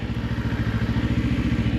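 Motorcycle engine pulling away from a stop with a bit more throttle, a loud close throbbing idle-to-low rev with rapid, even pulses and no voices.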